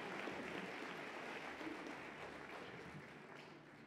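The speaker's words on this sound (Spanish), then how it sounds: "Vamos a tributar un caluroso aplauso a este último grupo de funcionarios distinguidos" Audience applause at an anniversary ceremony, honoring distinguished staff members for twenty years of service; a steady, moderately distant wash of clapping from a seated crowd that holds evenly and tapers slightly toward the end.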